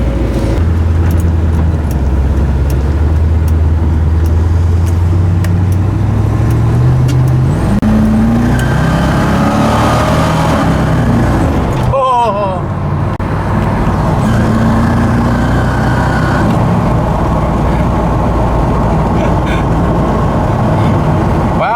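A car engine fitted with a Holley 80457 carburetor, not yet fully tuned, runs loud and steady throughout, its tone rising as it accelerates and then settling into a continuous roar with road noise.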